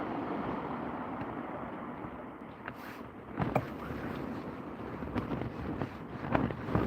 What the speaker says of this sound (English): It's got well windy.